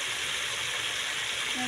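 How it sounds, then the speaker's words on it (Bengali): Potatoes fry in hot oil in a wok, giving a steady, close hiss of sizzling that holds level without pause for the whole short stretch. "এই যে কড়াইয়ের মধ্যে আলু দিছি"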